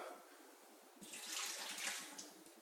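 Juice pours out of a new juicer in a steady liquid stream that starts about a second in and runs loud and close to the end, with no talking.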